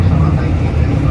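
Heard from inside a passenger train heading to Matsusaka, wheels and engine make a steady low rumbling drone with dense broadband noise, continuous and fairly loud.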